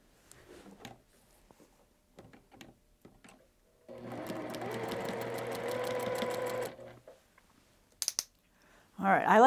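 Sewing machine piecing small quilt pieces into rows, running steadily for about three seconds after a few quiet handling clicks, then stopping; near and moderately loud.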